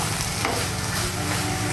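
A Bengali vegetarian chopped radish curry with sugar is stirred steadily in a hot pan, giving a continuous close, even sizzle with soft scraping and no talking.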